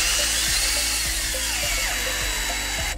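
A power drill drives a bolt while a weather station is mounted, giving a loud, close, continuous high-pitched whine that holds steady for a few seconds before cutting off abruptly at the end.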